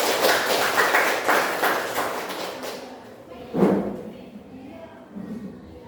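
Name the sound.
class clapping hands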